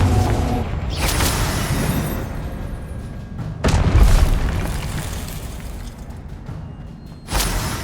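Confringo spell explosions from the Hogwarts Legacy game: loud booming blasts with rumbling, crackling tails, three distinct bursts spread across the stretch over continuous game noise.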